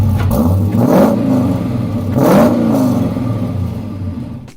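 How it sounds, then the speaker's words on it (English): The LS V8 engine of a 1974 Chevrolet Nova with a Pypes exhaust revs loudly in two rising surges, its deep exhaust rumble swelling and falling back, close by with no talking. "The nice sounds that we love to hear from that V8 engine."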